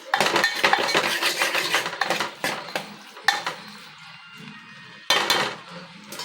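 A spoon stirs Mysore red lentil dal in a metal pot, making loud scraping and clinking bursts in uneven strokes with short pauses, close by and with no talking.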